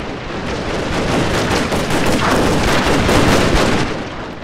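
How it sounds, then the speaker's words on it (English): Gatling guns firing on cavalry in a strategy video game battle, with dense, continuous rapid gunfire and booms that stay loud and close throughout, without any speech. "there's Gatling guns firing at the left into cavalry, revolver cavalry"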